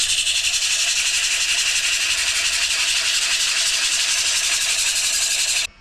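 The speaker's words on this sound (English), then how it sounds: "So we'll hit this with a little bit of sandpaper," Sandpaper held against a spinning wood-turned microphone stand on a lathe gives a steady, bright, hissing rasp that holds evenly and then cuts off abruptly at the end.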